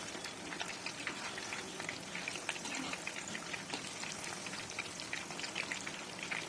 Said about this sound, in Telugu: చక్కగా వేగుతున్నాయండి ఎక్కడ ఒక్క ముక్కకు కూడా ముక్క ముక్క అంటుకోకుండా విడివిడిగా వేగుతున్నాయి